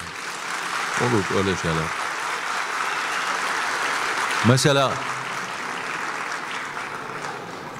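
An audience applauds at a poetry talk during a municipal book days event in Aksaray, a steady wash of clapping running throughout while someone speaks briefly over it twice.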